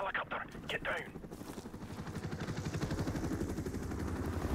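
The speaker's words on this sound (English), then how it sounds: "Oh, the helicopter." An enemy helicopter in Call of Duty Modern Warfare Remastered, its rotor thumping in a rapid, steady pulse that grows louder and closer, following brief speech at the start.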